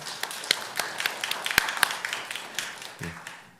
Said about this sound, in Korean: 이 새벽에 말씀 봉독으로 수고해 주신 우리 조예지 청년에게 박수로 격려하도록 하겠습니다